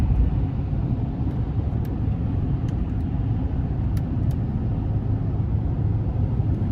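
A 2024 Chevrolet Silverado 2500HD with the 6.6 turbodiesel accelerates under a heavy throttle, heard from inside the cab as a steady, deep engine rumble and drone with road noise and no talking.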